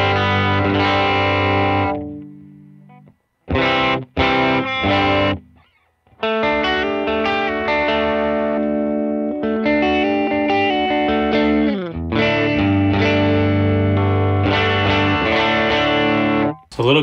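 Electric guitar through a dual Tweed amp preset on an HX Stomp with only compression ahead of it, slightly gritty and breaking up, strummed chords and short phrases with brief pauses, close and loud.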